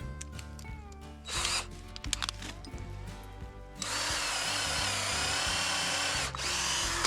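A power drill whirs and bites through wood while a bushcraft shelter frame is built outdoors, with short bursts at first and then a steady, loud, continuous run.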